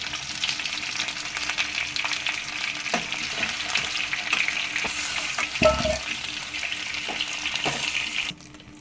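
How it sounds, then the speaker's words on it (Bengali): Potatoes frying in hot oil for Kashmiri dum aloo, a steady close sizzling hiss that runs unbroken for most of the stretch before cutting off near the end, with no talking. "এবার দেখে নেব আমার আলুগুলো ভাজা হয়েছে কিনা"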